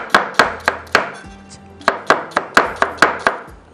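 A knife finely chopping onions on a board, crisp rhythmic knocks in quick runs with a short pause midway, close and clear, with no talk.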